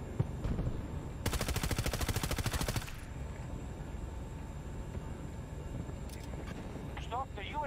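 A rapid burst of automatic gunfire rattles for about two seconds in Battlefield 2042 helicopter combat, sharp and loud over a steady engine drone, while players talk excitedly.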